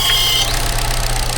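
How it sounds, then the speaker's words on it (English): A Chevy Cruze 1.4 engine with a blown oil seal runs steadily up close, a loud continuous drone with a brief high whine at the start. "And the engine's running well."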